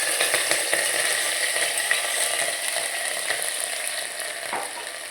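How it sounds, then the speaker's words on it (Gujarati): Ginger-chili paste hits hot oil in a mustard-seed tempering for a potato curry, giving a continuous close sizzle and crackle with faint stirring clicks, no talk. "નાખો હવે આદુ મરચાંની પેસ્ટ."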